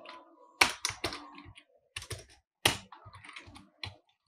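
Keys clatter on a computer keyboard as code is typed in Turbo-C, irregular bursts of close, crisp taps separated by short pauses, with no talking.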